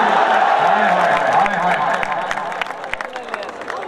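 A tournament crowd applauds and cheers at a match final, giving a dense, sustained wash of clapping and crowd noise with voices talking over it.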